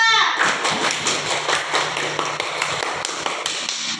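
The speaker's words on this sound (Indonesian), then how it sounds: "coba kita berikan aplaus kepada kawan-kawan kita" Schoolchildren in a Qur'an-reading classroom applauding their classmates, a dense patter of many small hands clapping fast and steadily, close and loud, with a teacher's voice heard over the start.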